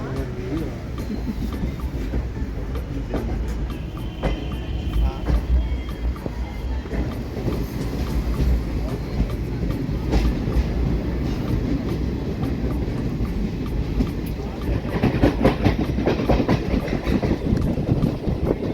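Passenger train running on the Delhi-Howrah route toward Prayagraj, heard from inside as a continuous loud rumble with rhythmic wheel clatter and some wind noise, rising slightly near the end.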